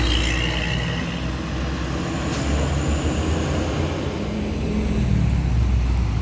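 A DMI bus arriving along a road in Klampok, a steady loud low engine rumble and road noise rolling on continuously, nearby and without talk.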